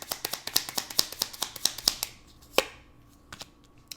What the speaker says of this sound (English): I'm going to continue to shuffle.